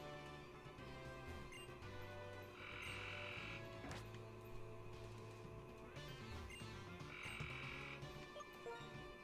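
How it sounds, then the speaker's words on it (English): A frog croaking right outside a window after rain, with a steady low pulsing croak over the whole stretch and two brighter trilling bursts, faint behind a room hum and with no voices. "There's a loud-ass frog right outside of my window."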